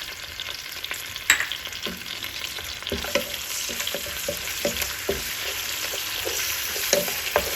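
Ginger garlic paste fries in a pan over medium heat, a steady close sizzle with repeated soft scrapes of a spoon stirring through it.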